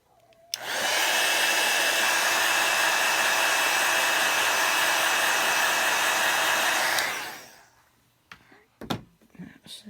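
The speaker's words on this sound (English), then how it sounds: "Let me hit this with the heat tool a second, make sure that's dry before I stamp on it." A craft heat tool blows steadily for about six seconds to dry ink on a card, loud and close, with a soft click as it starts and a few light knocks after it stops.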